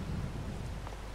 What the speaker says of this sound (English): It is raining quite hard.